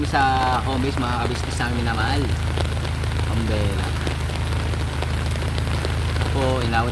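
Sudden rain pours down steadily after a hot day, a dense continuous hiss of drops on surfaces throughout, with a low steady hum beneath and voices speaking intermittently over it.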